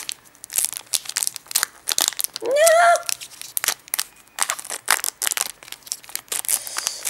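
Pokémon card booster pack from the Dark Explorers set being opened slowly, with close crinkling and tearing foil, a brief louder rip in the middle, and a voice speaking between the crinkles.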